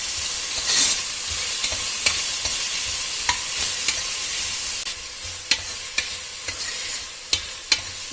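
Onion and garlic paste frying in a pan gives a steady hiss and sizzle, broken by frequent sharp clicks of a spoon stirring against the pan.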